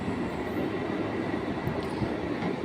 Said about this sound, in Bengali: আর একটা ট্রেন যাচ্ছে দেখুন, বর্ধমান থেকে এসে আসানসোল যাচ্ছে।